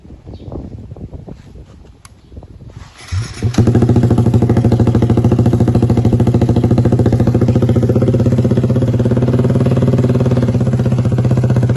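A Kawasaki Z125 motorcycle with a KO Lightning exhaust fired up for the first time: a short cranking clatter, then the engine catches and idles loud and close with a steady, throbbing exhaust note.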